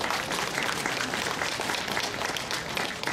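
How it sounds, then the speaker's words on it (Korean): Audience applause after a Korean court sword dance at a palace culture festival, a dense steady wash of clapping from a crowd that continues throughout. "여러분 큰 박수 부탁드립니다."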